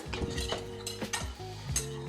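Whisk scraping and clinking against a pot as butter and flour are stirred together for béchamel, with a faint sizzle underneath; repeated close scraping strokes.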